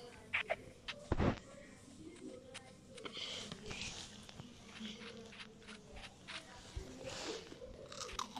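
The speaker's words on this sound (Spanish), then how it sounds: "si se escucha un mastico es que estoy comiendo galletitas" Crunchy cookies being chewed close to the microphone, with one loud crisp bite followed by softer irregular crunches and mouth sounds, plus an occasional sniff at a quiet level.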